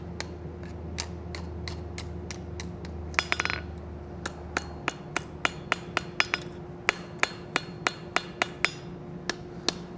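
A hammer striking a hot steel rose on an anvil, sharp metallic rings repeating in a quick, fairly steady rhythm, with a brief hissing burst partway through and a low hum beneath.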